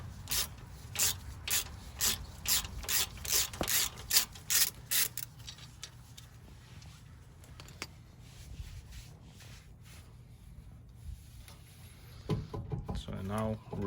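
T50 Torx tool ratcheting as it undoes the brake caliper holder bolt on a Range Rover Sport L320 with an electronic parking brake fault. A quick series of rhythmic metallic clicks comes first, then quieter handling noises, and someone talks near the end.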